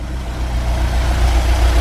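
A 1984 VW Vanagon engine idling after a difficult start, a loud, close, low rumbling drone that stays steady with slight pulsing throughout, no voices over it.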